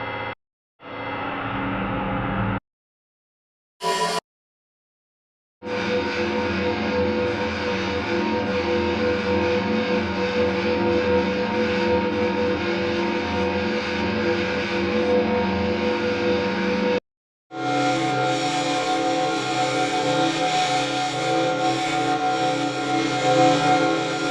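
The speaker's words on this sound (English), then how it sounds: "you can create some sort of really interesting texturized pad sounds like this" Textured pad sounds built from many grains in a granular sampler, heard as sustained, dense, harmonically rich drones broken by a few short gaps, steady and loud with no talking.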